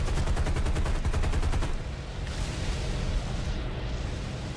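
Sustained rapid gunfire from a War Thunder arcade ground strike battle, a dense rattling burst that runs for nearly two seconds and then gives way to a loud rumbling explosion-like roar that lingers to the end.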